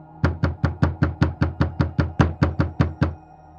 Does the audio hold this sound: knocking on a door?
yes